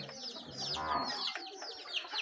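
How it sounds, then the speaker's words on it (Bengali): A hen clucks in soft, repeated guttural calls close by on a poultry farm, with higher chirps from chicks mixed in and voices intermittently present. "মুরগিটা চারপাশ দেখালে গুল গুল করে"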